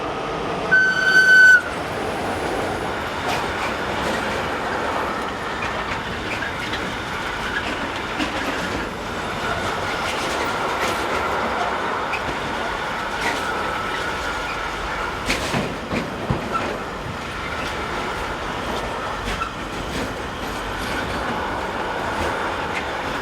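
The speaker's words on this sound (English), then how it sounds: "train UKV 40788 from Domodossola to Antwerpen intermodal service" An intermodal freight train rumbles past on the BLS line in Switzerland, a long, steady clatter of wagons rolling by at close range, with no voices.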